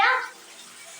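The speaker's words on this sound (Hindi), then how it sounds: "तो गाइस कितना गर्म पानी आ रहा है।" Hot water gushes from an instant electric water heater tap, a short loud splash that quickly settles into a soft, steady trickle and hiss.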